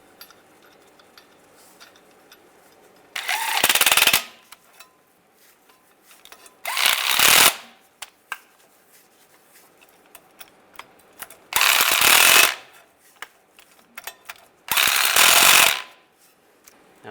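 A ratchet tightens timing cover bolts on a 2007-2013 Chevy Silverado in four separate bursts of rapid clicking, each lasting about a second, with quiet pauses between them.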